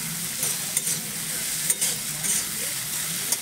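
Pieces of food frying in a pan for egg curry as they are stirred, a continuous close sizzle broken by several quick scraping knocks of the spoon against the pan.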